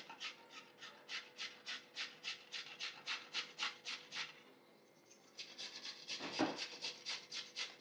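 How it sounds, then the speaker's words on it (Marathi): A carrot is grated by hand in a home kitchen: quiet, evenly spaced rasping strokes in a fast, steady rhythm, with a short pause before they resume. "पहिला मी गाजर किसून घेते"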